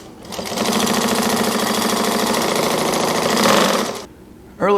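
A Juki 1541 industrial sewing machine runs at high speed for about four seconds, a loud rapid mechanical chatter that stops abruptly, followed by a brief voice.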